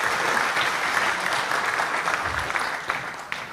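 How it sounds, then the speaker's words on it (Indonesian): An audience at a military staff college gathering of 212 officers claps for a speaker named Rudy, producing dense, sustained applause that holds steady and then tapers slightly toward the end. "Tepuk tangan untuk Rudy."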